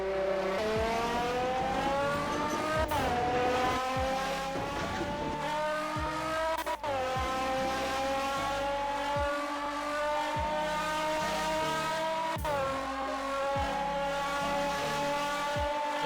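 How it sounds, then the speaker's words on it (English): A car races at high speed in the Roblox game Fix It Up, a loud sustained engine whine with rising pitch sweeps as gears shift, broken by a few sharp clicks, with no talking. "Let's figure out how fast this car actually can go now."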